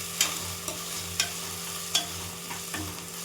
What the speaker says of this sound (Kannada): ಇದನ್ನೆಲ್ಲ ಚೆನ್ನಾಗಿ ಎಣ್ಣೆಯಲ್ಲೇ ಬಾಡಿಸ್ಕೊಳ್ಳೋಣ.